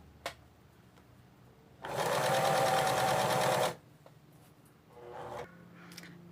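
A sewing machine stitches a straight seam through fabric scraps for a rag rug. Its steady, close whirring lasts about two seconds between quiet handling sounds, with a brief softer run near the end.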